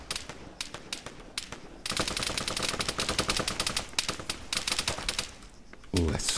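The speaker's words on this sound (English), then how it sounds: "Someone shooting." Rapid bursts of gunfire in the Arma 3 military shooter, a dense crackle of rifle and machine-gun shots close by, rising into heavier sustained fire midway and ending on a deeper blast.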